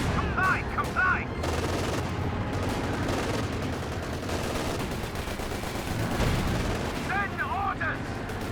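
Suppressive gunfire in the real-time strategy game Company of Heroes 2: sustained, dense rattling of rifle and machine-gun fire with distant booms, steady throughout, with short voice lines and radio chatter at the start and near the end.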